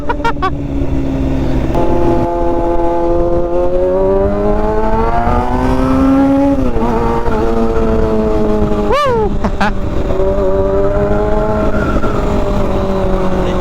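A sportbike engine revs hard and steadily for over ten seconds, loud and close, its pitch rising and falling through a few throttle blips with one sharp high rev near the end.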